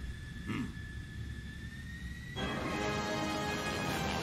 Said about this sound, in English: and he hits the Joker's helicopter